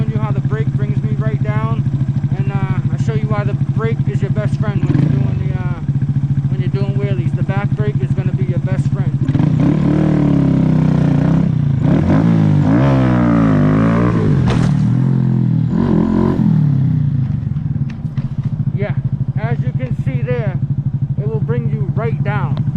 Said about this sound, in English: I'll give you guys a few wheelies here showing you how the brake brings me right down